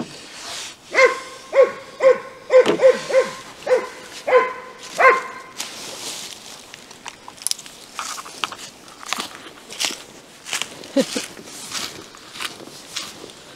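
A dog barks at a car tire outdoors near an old summer house in early spring, a quick run of sharp, loud, close barks, followed by chewing, crunching and footsteps.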